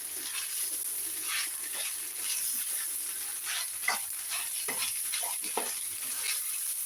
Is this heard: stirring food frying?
yes